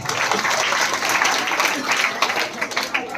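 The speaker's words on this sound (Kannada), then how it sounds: "ಚಪ್ಪಾಳೆ ನೋಡ್ರಿ" Audience applause at a school gathering, a dense, steady wash of many hands clapping that carries on throughout at moderate loudness.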